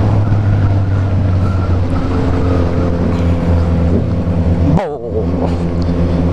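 A motorcycle engine, one of three being revved, roars loud and close with a steady, throaty drone, briefly dropping off near the end before picking back up.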